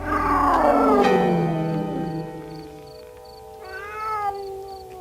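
A cat meowing, a drawn-out yowl that falls in pitch, followed by a quieter, shorter meow near the end, fairly close and alone.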